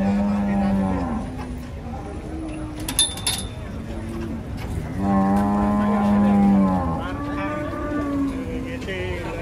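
Large cattle bellowing as they are unloaded from a truck at a busy livestock market, long loud moos repeating close by over background noise and clatter.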